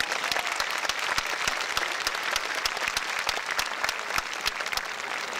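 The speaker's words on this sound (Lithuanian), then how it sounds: "Jūsų plojimai." Steady applause from a concert audience at a festival event in Kaunas, a dense crowd clapping continuously at even volume from start to finish, with no voices standing out.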